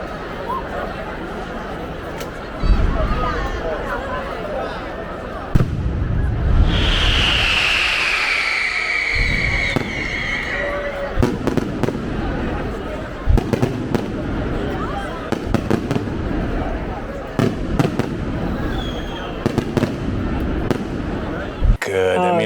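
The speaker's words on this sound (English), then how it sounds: "And the fireworks went off." Fireworks pop and boom at a distance in Sicily, with a whistling rocket rising, as a crowd chatters and cheers throughout.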